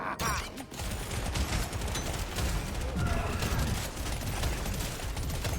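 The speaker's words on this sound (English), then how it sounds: "Warthog's kind of like the boomstick, but it only fires forward, but it has more shells and more ammo count" Warthog shotgun in Deep Rock Galactic Survivor fires amid a dense, continuous barrage of game gunfire and explosions, loud and unbroken throughout with no pauses.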